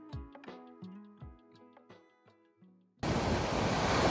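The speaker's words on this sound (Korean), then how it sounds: "파도 치는 바다를 잠시 바라보며 한숨 돌리고" Sea waves break on the coast at Hupo, near the Deunggisan skywalk. After a stretch of plucked music, a loud, dense rush of surf and wind suddenly fills the last second.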